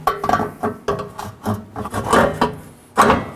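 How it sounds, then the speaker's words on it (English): A new rear bumper reinforcement for a 2014-2019 Nissan Sentra is lined up and slid onto studs coated with anti-seize, giving close, loud scraping and rubbing knocks in irregular bursts. "Now line up your new reinforcement and slide it in."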